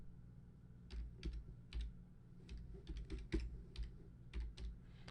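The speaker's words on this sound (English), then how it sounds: "I'm going to type in my number." Keys clacking on a computer keyboard as a phone number is entered, short bursts of taps separated by brief pauses, close and fairly clear over a low steady room hum.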